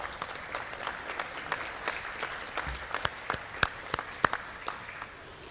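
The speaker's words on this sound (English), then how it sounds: "you guys deserve a clap" Applause from an annual meeting audience at a credit union gathering, a steady bed of many hands clapping with a few sharper, louder claps standing out near the end, moderately distant.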